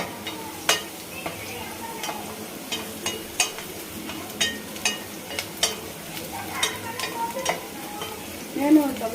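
Onions frying in a pan while being stirred, a steady background sizzle broken by frequent sharp scrapes and clinks of the spoon against the pan, close and moderately loud, with no talking.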